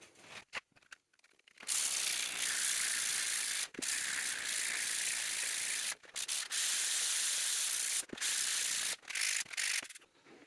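A part for a homemade sim racing actuator is hand-sanded with 150-grit sandpaper. The gritty rubbing strokes come in close, loud bursts separated by short pauses.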